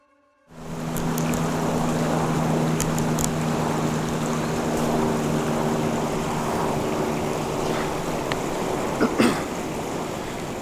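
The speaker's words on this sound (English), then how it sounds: "I heard what sounded like a boat coming up the river." A steady motor drone fades in and holds, a boat engine approaching up a river, with a distant hum and a few faint knocks.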